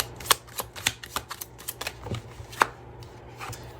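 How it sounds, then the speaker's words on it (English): Tarot cards being shuffled and pulled, heard as a close, quiet run of irregular papery flicks and slaps, with one sharper snap partway through. "I'm guided to pull 2 more cards here."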